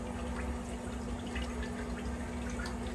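Water sprays steadily from a bidet toilet seat's wash nozzle, a constant close hiss with a low hum underneath and no talk.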